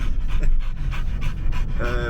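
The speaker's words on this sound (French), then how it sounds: "vous n'allez pas entendre grand chose à part la grosse respiration de Ragen" A dog breathes heavily in rapid, rhythmic pants, loud and close throughout, inside a van on a weekend trip.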